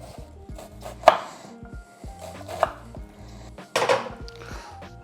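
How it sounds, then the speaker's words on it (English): Knife dicing vegetables finely on a cutting board for a quick shrimp pasta, a string of close, crisp chops in uneven bursts with a few louder knocks against the board. "We want a fine dice on these."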